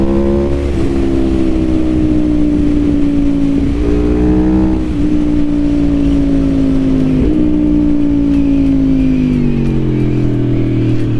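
The engine of a 2021 Aprilia Tuono V4 Factory motorcycle roars at high RPM while riding, a loud continuous drone whose pitch climbs and drops sharply with quick-shift gear changes, close up and steady throughout.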